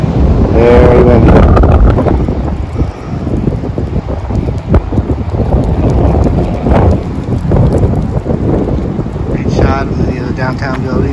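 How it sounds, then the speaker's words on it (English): Strong wind in downtown Chicago roars and buffets the microphone in loud gusts, with rumbling low noise throughout and a brief voice and faint street sounds near the end. "Man, very windy."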